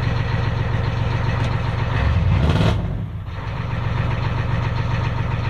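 A 7.3 IDI diesel engine idles after a cold start at 30 degrees, a steady low rumble with a brief throttle swell in the middle, heard up close and continuous with no talk.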